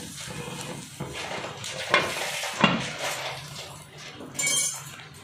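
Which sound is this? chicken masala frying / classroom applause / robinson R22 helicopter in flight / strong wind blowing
chicken masala frying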